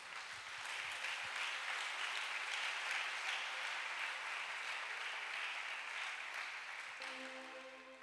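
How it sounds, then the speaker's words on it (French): A church congregation at a praise and worship service breaks into sustained, loud applause that fills the room evenly for several seconds, tapering slightly near the end. "On peut acclamer cette parole de Dieu."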